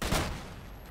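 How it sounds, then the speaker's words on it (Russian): A dense burst of explosions and gunfire in the shooter game S.T.A.L.K.E.R.: Shadow of Chernobyl, loud and close, with a sharp blast near the start decaying into a rumbling roll. "Взрывы какие-то сплошные"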